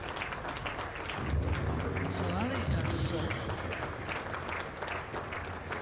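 Warm applause from a sparse crowd at a Warwickshire v Surrey County Championship cricket match, a steady patter of clapping heard somewhat distantly beneath a commentator's voice.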